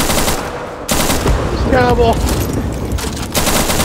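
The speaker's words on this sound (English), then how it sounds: "You walked in front of my gunfire again." Rapid bursts of gunfire in the Hideous Destructor video game, sharp broadband volleys at the start, middle and end, with a short spoken word between them.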